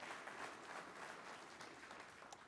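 Audience applause at the 2022 City of Elk Grove State of the City address, a steady, even patter of many hands clapping, soft and diffuse as if heard from across a hall.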